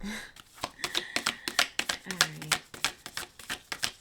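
Cards are riffled and shuffled in quick, crisp bursts of rapid clicking flutters, close by, with a few quiet spoken sounds mixed in.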